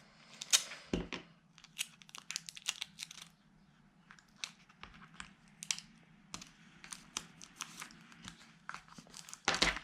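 Small strips of adhesive tape are torn and crinkled in quick, irregular bursts, close and fairly quiet, with no talking.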